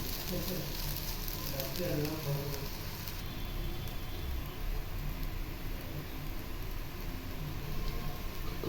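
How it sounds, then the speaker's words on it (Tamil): Green gram dal upma with grated coconut sautés in oil, a low steady sizzle with faint stirring, close by and quiet throughout. "உப்பு பிடிக்கிற அளவுக்கு இதை நல்லா எண்ணெயிலே நல்லா வதக்கலாம்."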